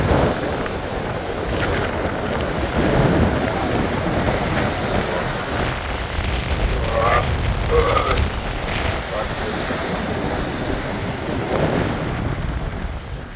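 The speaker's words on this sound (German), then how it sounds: "Ich bin mal rausgegangen, weil es schaukelt ganz schön. Also es sind ganz schöne Wellen." Rough sea waves seen from a ferry deck at night on the Rosslare crossing, a steady broad wash of surf and wind buffeting the microphone throughout, with a faint voice briefly under the roar.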